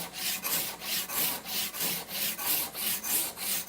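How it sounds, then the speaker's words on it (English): A 14-inch tenon rip saw cuts tenons in wood with about eleven steady, even rasping strokes, close by and with no speech. "I like to use a 14-inch tenon rip saw for this."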